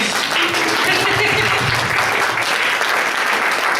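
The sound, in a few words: audience applause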